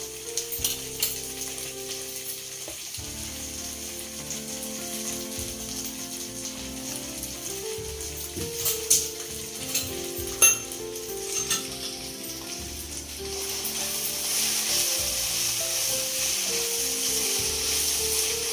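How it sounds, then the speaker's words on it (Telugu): Okra (lady's finger) frying in a pan of oil: a steady, close sizzle with light crackles and occasional stirring clinks, growing slightly brighter and louder toward the end, with faint music underneath. "బెండకాయ చూద్దామండి. అయ్యింది చక్కగా ఫ్రై అయింది."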